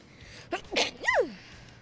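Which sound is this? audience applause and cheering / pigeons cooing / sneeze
sneeze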